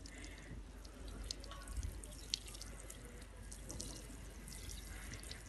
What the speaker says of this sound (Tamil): ஏதாவது இருக்கிற மாதிரி வாட்டரிங் பண்ணுங்கள்